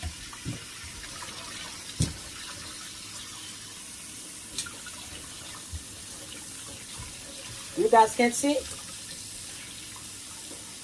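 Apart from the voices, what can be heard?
tap water rinsing chicken with hot water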